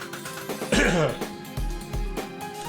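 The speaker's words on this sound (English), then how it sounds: "Apologies, people, had to clear my throat." Someone clears their throat with a few rough, gravelly rasps and short vocal noises, close and fairly loud.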